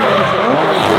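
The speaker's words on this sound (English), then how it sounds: "look at Trevor, nice and wide in that Corvette" A Corvette drifting in a drift competition battle gives off a loud, sustained tire squeal mixed with engine roar, filling one continuous second up close.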